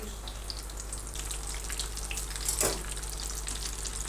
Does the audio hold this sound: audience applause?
no